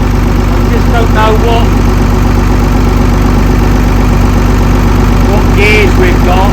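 A Manitou forklift's diesel engine runs at a steady idle, a continuous low rumbling throb from start to finish, with voices talking faintly over it.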